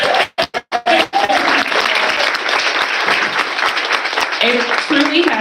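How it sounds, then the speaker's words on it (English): An audience at a graduation ceremony for program graduates from across Illinois claps and cheers: a few loose claps quickly swell into loud, sustained applause with cheering voices mixed in. "So let's just cheer for you and them."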